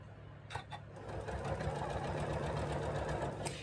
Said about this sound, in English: And we're going to sew corner to corner.